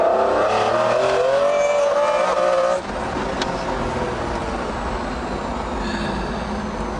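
A McLaren F1 sports car engine roars loudly up close, its pitch sweeping upward as it revs and accelerates. After a shift the tone drops and the engine settles into a rough, sustained drone.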